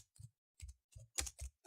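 Keys tapped on a computer keyboard while entering a validation message in Excel, heard as six short, separate bursts of clicking spaced across a quiet background, close and moderately faint.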